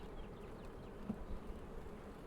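Honey bees buzz around a heavy medium beehive super, a soft, continuous, fairly distant hum of many insects with no talking.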